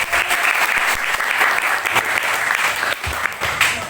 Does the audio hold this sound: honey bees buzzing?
no